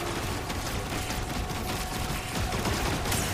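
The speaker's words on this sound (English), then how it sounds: "there's like a bunch of turrets gunning at me" Turrets fire in the Star Wars Jedi: Survivor video game, a dense, continuous barrage of blaster gunfire with mechanical clatter, loud and steady throughout.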